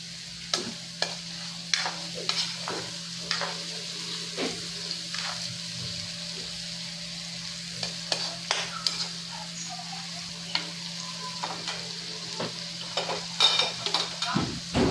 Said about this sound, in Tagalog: Gisa lang natin yung bawang niya